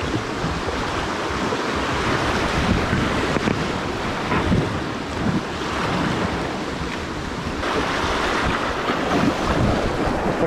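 Water rushes through small river rapids around a packraft, a close, continuous churning and splashing with wind buffeting the microphone and no speech.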